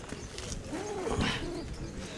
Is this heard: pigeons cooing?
yes